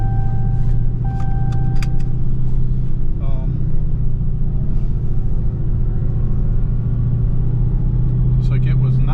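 A Dodge Demon 170 heard from inside the cabin, its engine giving a loud, steady low rumble while accelerating, with the drone holding through bogged gear changes and people talking over it.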